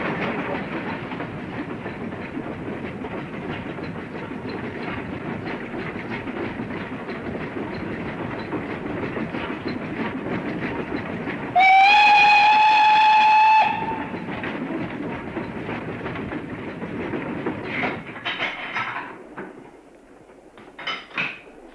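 A train runs along a single-track branch line railway with a steady rumbling clatter, then gives a loud two-tone whistle lasting about two seconds before the running noise fades out to near quiet.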